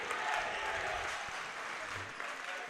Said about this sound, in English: fans here in Mount Horeb something to cheer about